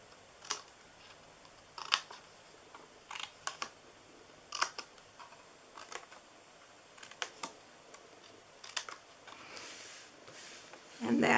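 Scissors snipping the corners off a paper treat box, a scattering of short, sharp crisp snips and clicks spaced irregularly, close and fairly quiet.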